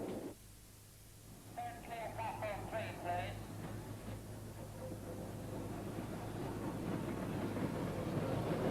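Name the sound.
steam locomotive Clan Line passing, hauling a rail tour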